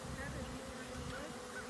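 Bees in a newly set up beehive make a steady low buzz that carries on unbroken, faint and close by, with no voices over it.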